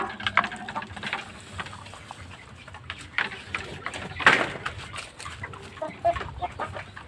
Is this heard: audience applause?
no